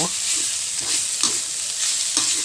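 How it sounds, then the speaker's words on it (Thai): Wild boar pork skin stir-fried with curry paste in a hot pan, giving a steady loud sizzle broken by repeated scraping strokes of the spatula at a regular rhythm, close by with no talking. "ใส่หนังหมูของเรา ลงไปเลยนะครับ แล้วเราก็ผัดนะครับ ผัดให้มันเข้ากับพริกแกงของเรานะครับ"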